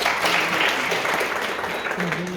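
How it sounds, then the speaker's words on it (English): A class of high school students claps for a girl who just answered, brief steady applause nearby with a teacher's encouraging voice and some chatter underneath. "Beautiful. Clap for her. Come on."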